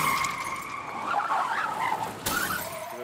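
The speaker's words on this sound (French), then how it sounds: "Je freine, je percute." A car braking hard and skidding just before a crash, a loud continuous tire squeal over road noise that briefly cuts off and resumes.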